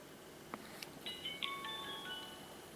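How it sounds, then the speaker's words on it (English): An Aukey AC WC1 action camera powers on with a short electronic ringtone, a few faint clicks followed by a quiet sequence of bright beeping tones, close and alone. "there's a little ringtone that comes in and a light to let you know that it's on"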